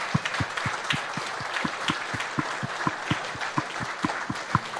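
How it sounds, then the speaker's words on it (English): Steady applause from the audience at an award banquet, with rhythmic claps ringing out over a dense wash of clapping that carries on throughout. "Let's have a round of applause for our Hobey winners who are here tonight"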